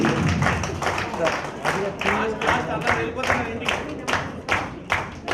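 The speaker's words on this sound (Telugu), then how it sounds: "క్లాప్స్ కొట్టాలి." Participants at a cultural training event clap steadily in a brisk, even rhythm, filling the room with close, sharp claps.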